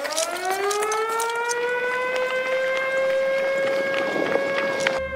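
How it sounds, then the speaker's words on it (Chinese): An alarm siren wails at a military air base during a combat readiness drill, a loud steady rising tone with strong harmonics holding for about five seconds before cutting off abruptly. "警报声响起"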